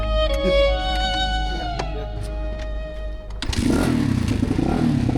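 A motorcycle engine idles with a rough, uneven chug and a few sharp clicks, then catches and revs up into a loud, continuous roar close by.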